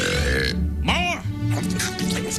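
An animated creature lets out a loud, wet burp with a rising and falling pitch, surrounded by bursts of cartoon voices and background music.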